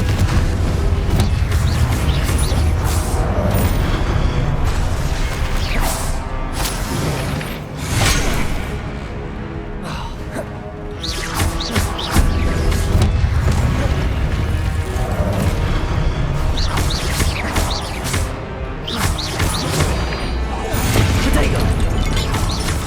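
Confringo explosion spells cast in the video game Hogwarts Legacy: loud, repeated fiery blasts, crashes and booming impacts with whooshes, forming a dense, continuous battle din.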